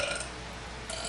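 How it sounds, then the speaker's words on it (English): A woman burping in a video being played back, one drawn-out rasping belch heard fairly close with a slight flutter, alone without talk. "some gross, ugly girl burping."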